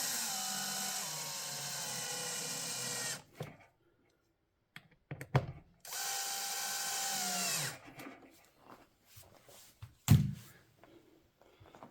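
Power drill driving screws to fasten an extractor fan motor inside a cooker hood: two sustained whirring runs of about three seconds each, separated by quiet gaps with small clicks and handling knocks, fairly close.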